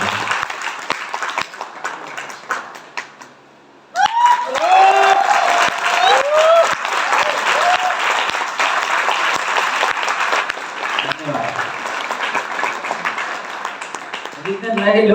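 An audience at a seminar breaks into loud, sustained clapping and cheering that runs for many seconds, with voices shouting over the applause.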